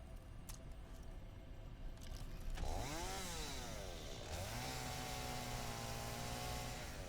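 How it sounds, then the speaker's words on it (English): A chainsaw in the Satisfactory video game starts up and revs, its engine pitch sweeping up and down before settling into a steady idling drone under a constant background hum. "so let's grab our chainsaw."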